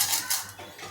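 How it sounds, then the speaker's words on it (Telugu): Urad dal tipped into a tempering pan after chana dal, giving a short, bright rattling sizzle of dry lentils hitting hot oil, close and fairly loud with no talk. "కొంచెం చాయమినపప్పు వేస్తున్నాను"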